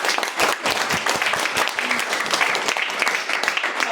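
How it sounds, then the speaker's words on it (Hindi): An audience at a seminar claps, a dense and fairly loud burst of many hands with crisp individual slaps, continuing steadily for the whole stretch with no talk over it. "ठीक है, बजा सकते हो ताली?"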